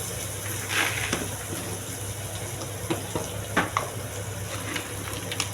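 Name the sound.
sautéing with rock salt in a pan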